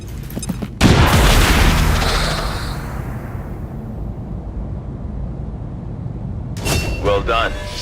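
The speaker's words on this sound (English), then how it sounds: "Grenade out!" A grenade detonates in XCOM 2: War of the Chosen, a loud booming blast that rolls out and slowly fades into a long rumbling tail, with voices and game sounds briefly at the start and end.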